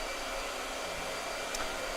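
A blow dryer runs steadily close by, a constant breathy whirring hiss with no pauses and no voices over it.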